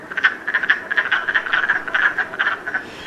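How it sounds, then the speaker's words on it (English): Wood frogs calling in early spring, a rapid run of short clucking croaks repeating in quick uneven pulses, loud and near with nothing else over them. "Our very first frog in the spring is typically something called the wood frog,"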